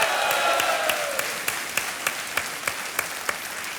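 Studio audience applause on the set of the KBC quiz show opens as a loud, full burst of clapping. It fades within about a second into a softer, steady patter with sharp claps cutting through now and then.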